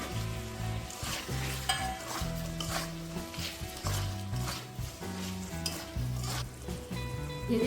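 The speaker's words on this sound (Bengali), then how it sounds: "এখন আমি ভেজে রাখা আলুগুলোকেও দিয়ে দেবো।" Fried potatoes tipped into a simmering jackfruit curry (echor kalia) in a pan, with a loud, steady oil sizzle and repeated scraping stirs, close up and without voices.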